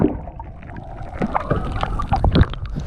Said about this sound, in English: gonna just paddle along the shoreline